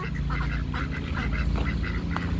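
Ducks quack in a steady, busy chorus, several birds calling close by over a low background rumble.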